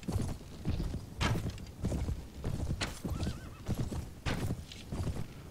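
A Jatu war beast, a horse-like mount in Mount & Blade: Prophesy of Pendor, gives repeated clip-clopping hoofbeats with whinnying calls, moderately loud and fairly near in a rhythmic gallop.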